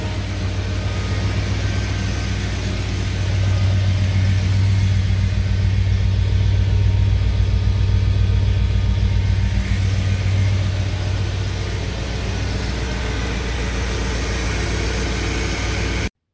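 A 1973 International Scout II with a 345 V8 and Holley Sniper fuel injection idles steadily after its first start, a deep low rumble holding even and close throughout with a faint hiss above it.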